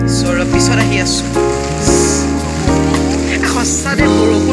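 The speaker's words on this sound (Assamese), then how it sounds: "সঁচাতে বৰষুণডালে চব চেচ কৰি দিলে" Rain pours steadily outdoors on an evening of Diwali celebrations, a dense continuous patter heard close and loud beneath a droning hum and scattered thumps.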